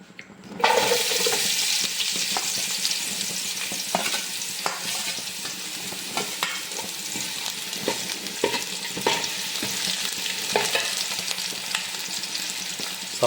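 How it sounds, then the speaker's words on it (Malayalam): Onions dropped into hot ghee for biryani break into a loud, steady frying hiss after a brief quiet start, with intermittent clicks and stirring knocks throughout. "നമുക്ക് ഈ നെയ്യിലോട്ട് സവാള ഇട്ട് കൊടുക്കാം"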